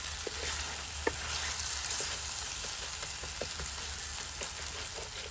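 Onion masala for a spicy egg pepper fry sizzles softly in a pan, a dense hiss under occasional light stirring taps, close but fairly quiet, no talking.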